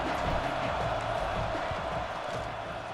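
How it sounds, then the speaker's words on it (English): A stadium crowd in EA Sports College Football 26 roars with a steady, dense wall of cheering as a field goal unit lines up, loud and continuous for the whole stretch with no single voices standing out. "This crowd trying to do its part to get inside the kicker's head."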